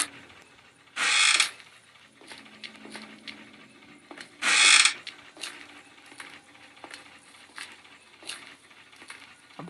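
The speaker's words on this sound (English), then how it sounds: "Right, open the door." A door mechanism works in the horror video game Granny 3, two loud grinding ratchet bursts a few seconds apart, surrounded by lighter mechanical clicks and clunks.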